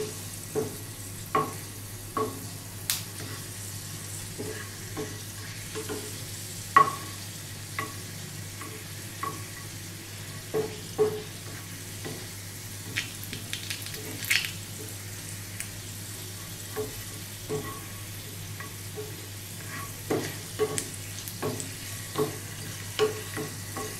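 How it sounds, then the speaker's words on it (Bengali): Two dried red chillies and three garlic cloves fry in hot oil, a continuous close sizzle punctuated by scattered pops and spatula clicks throughout. "এর মধ্যে দুটো শুকনো লঙ্কা আর 3টে রসুন একটু লাল লাল করে দেব।"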